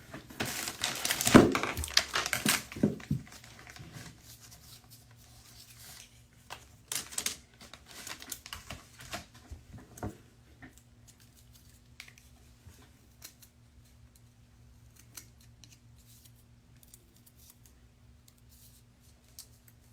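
Popsicle sticks being cut by hand, with sharp crunching snips and crackles clustered early, then scattered quieter clicks and handling noises over a faint steady hum, close by.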